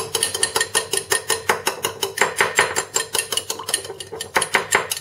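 Oil and vinegar being whisked into a vinaigrette in a bowl, a steady fast rhythm of light clicking and scraping strokes, close and continuous with no talk.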